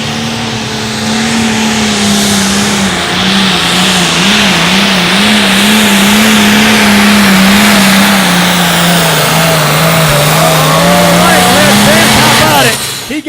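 Light limited pro stock pulling tractor with new sheet metal roaring at a county fair tractor pull in David City, Nebraska, its engine holding a loud, sustained, wavering rev for about twelve seconds before cutting off abruptly.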